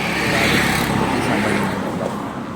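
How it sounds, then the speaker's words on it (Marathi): A shared auto rickshaw carries passengers along the road near Sambhajinagar, its small engine droning steadily with road and traffic noise swelling slightly then easing. "तर त्या रिक्षामध्ये आता आम्ही बसलेलो आहे."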